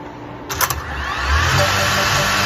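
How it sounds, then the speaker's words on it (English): The small electric motors of a DJI Mini 3 Pro drone spin up after a brief clatter, rising into a steady high whir that holds close and fairly loud. "it should start up the motor here"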